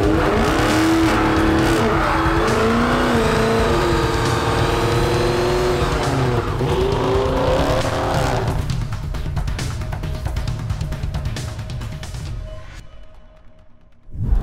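A Dodge Charger Hellcat Redeye launches hard, its supercharged engine roaring loud and close with squealing tires for about eight seconds before the sound drops away to a fading rumble.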